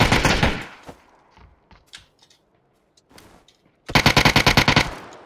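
Rapid automatic gunfire in PUBG: a loud burst at the start, a few scattered single shots in the quiet middle, then a second loud rapid burst of about ten shots near the end.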